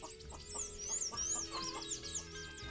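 A chicken clucks softly and repeatedly in the background, mixed with high bird twitters over a steady, noisy rural ambience, fairly faint and distant.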